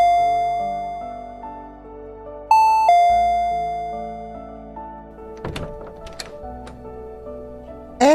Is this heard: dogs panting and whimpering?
no